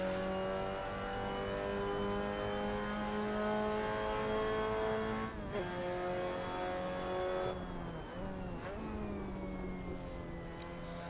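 A Mazda MX-5 Cup race car's engine drones steadily in a sim racing game at Okayama, holding a sustained high tone with brief dips and shifts as it changes gear, and no one speaks over it.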